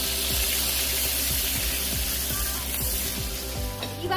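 Finely chopped onion fries in butter and oil, with a steady close sizzle and a few rhythmic scrapes or taps of a utensil against the pan running under it.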